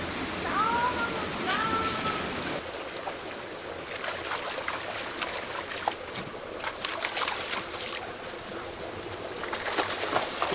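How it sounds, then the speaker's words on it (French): Water splashes and sloshes in a small forest pond in the Monts d'Arrée, with irregular bursts of splashing, a few bird chirps early on and faint voices in the background. "je vais t'éclabousser, tu vas voir."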